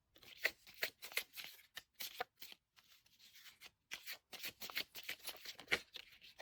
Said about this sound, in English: we're gonna shuffle for the crystal cards as well